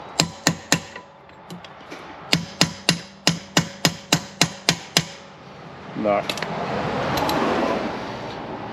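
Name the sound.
hammering on mower repair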